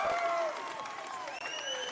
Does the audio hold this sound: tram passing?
no